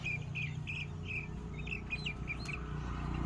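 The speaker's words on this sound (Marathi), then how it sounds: "आता मी त्या बाजूला पक्षी सोडणार आहे" Kaveri desi chickens on a small-space farm give short repeated clucks and chirps over a steady low background hum, with no talking.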